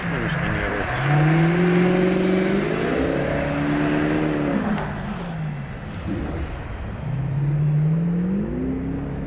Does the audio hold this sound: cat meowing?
no